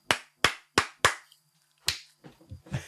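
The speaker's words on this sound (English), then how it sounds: "That's clapping." Four crisp, evenly spaced hand claps from one person close up, followed after a pause by another clap and a few softer taps.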